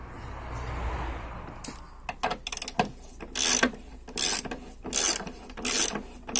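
A hand ratchet tightening the bolts of a car engine mount, giving rapid clicking pawl strokes in short repeated bursts, close and crisp, with no talk over it.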